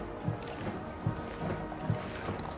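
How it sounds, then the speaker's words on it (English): Hooves of the late Queen Elizabeth II's pony clip-clop in a slow, steady rhythm during her state funeral, four soft evenly spaced steps over a constant outdoor hum. "standing there on the right of the picture, the Queen's pony or horse, Emma"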